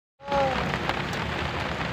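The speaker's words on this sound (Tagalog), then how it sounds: "Oh, lakas ng ulan oh." Heavy rain pouring in Burnham Park, Baguio, starting abruptly as a loud, dense, steady hiss of drops on surfaces that continues without pause.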